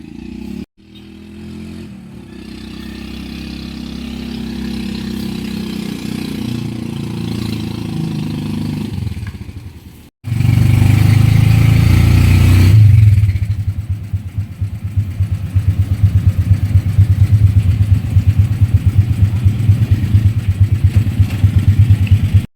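Engines of motorized tricycles run nearby near a church, with a steady mid-pitched drone that cuts out briefly, then returns as a louder, rougher idle with a rhythmic low throb.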